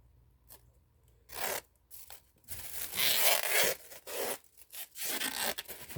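Adhesive tape pulled off its roll and torn in several bursts of ripping and rustling while a pot is wrapped for saggar firing, with quiet pauses between pulls.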